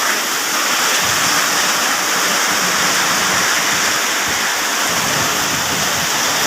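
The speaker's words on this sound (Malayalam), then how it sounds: "ഇന്നും അതേപോലെ തന്നെ നല്ല മഴ, മഴ." Heavy summer rain in Kerala pours down in a loud, constant rushing wash with occasional deeper splashes, close and unbroken with no speech.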